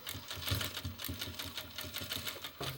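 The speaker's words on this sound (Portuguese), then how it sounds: "Vou costurar." A domestic sewing machine stitches fabric for a toiletry bag, its steady rapid needle clatter running close and clear, with a short pause and restart near the end.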